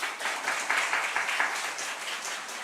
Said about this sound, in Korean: 맞으면 박수 쳐요.